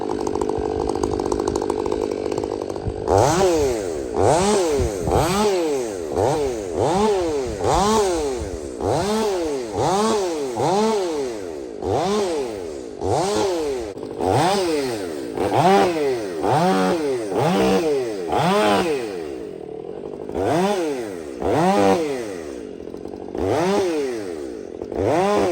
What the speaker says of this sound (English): listen to the saw here now